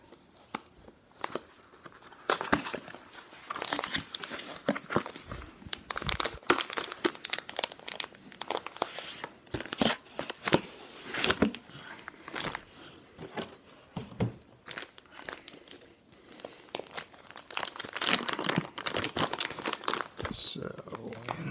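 Plastic wrapper around a compressed contour memory foam pillow being handled, irregular close crinkles and rustles in bursts, with a person talking throughout.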